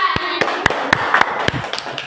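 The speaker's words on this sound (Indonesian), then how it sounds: "tepuk tangan untuk kelompok 2" Classroom students clap for a presenting group, a sparse run of about eight sharp, separate claps at an uneven rhythm, close and fairly quiet.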